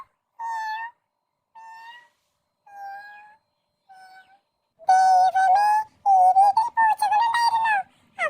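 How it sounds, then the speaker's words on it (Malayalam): Several cats meowing: first one voice repeats four separate meows with pauses, then louder overlapping yowls and cries from more than one cat crowd together near the mic. "അപ്പോഴാണ് താഴെ പൂച്ചകളുടെ ശബ്ദം അവൻ കേൾക്കുന്നത്."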